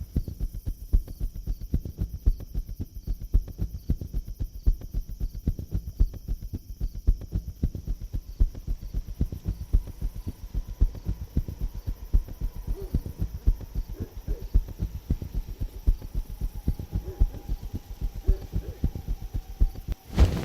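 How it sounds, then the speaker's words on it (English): A cat purrs in the video game Cabernet: a steady, low, rhythmic throbbing that continues evenly for about twenty seconds, close and alone without speech. "Oh, just listen to that purr."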